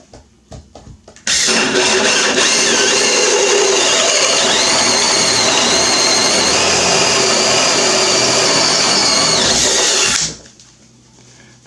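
A power drill with a wood bit bores steadily through a wooden door, one loud continuous whine lasting several seconds close by, starting and stopping abruptly with no talking.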